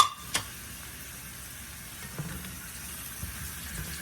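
Spinach simmering in a BLT pasta skillet gives a low, steady sizzle with a few soft clicks and taps of a stirring spoon. It sounds close and quiet, with no talking.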